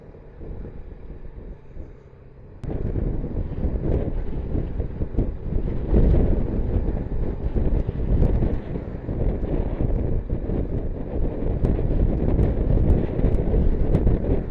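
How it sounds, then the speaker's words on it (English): Strong wind roaring and buffeting a microphone beside a highway in southeast Manitoba. It stays low and quieter at first, then jumps to a loud, constant rush with gusty surges, and no one speaks. "Wind's pretty good over here."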